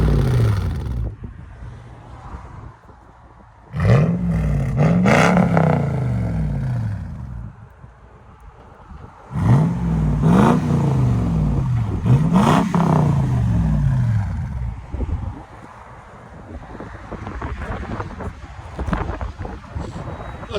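A 2004 Toyota 4Runner with a 4.7L V8 and straight pipes revs loudly in repeated bursts, each climbing and falling in pitch, with brief idling gaps and wind buffeting the microphone between pulls.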